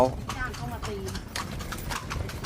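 A horse pulls a carriage at Wat Phra That Lampang, its shod hooves clip-clopping in a steady close rhythm under ongoing conversation.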